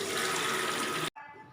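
Water running and pouring off washed moringa leaves, a steady close splashing stream that cuts off abruptly, then a softer trickle resumes briefly.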